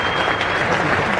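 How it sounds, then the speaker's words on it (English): A cricket ground crowd applauds commentator John Arlott at a Test match, a dense, sustained wash of clapping from many hands, loud and continuous. "The applause was for John Arlott, his last commentary."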